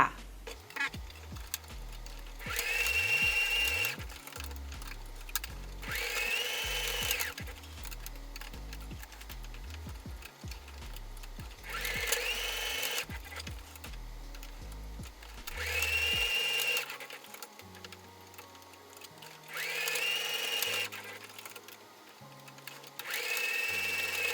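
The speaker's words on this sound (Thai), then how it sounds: "จะนำไปเย็บแค่ 2 ด้านแบบนี้นะคะ ทำเหมือนกันทั้ง 3 ชิ้นเลยค่ะ" Sewing machine stitching fabric pieces for a jewelry organizer, two sides of each piece, in several bursts of steady high whirring separated by pauses, over soft background music.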